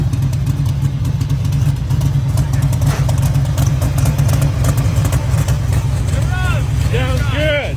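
A car's engine runs steadily on its first drive out of the shop in two years, a loud continuous low rumble close by, with a few chirping squeaks near the end.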